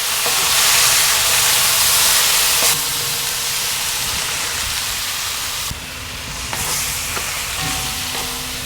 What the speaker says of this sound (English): So we're going to cook these for 3 or 4 minutes until they've turned pink.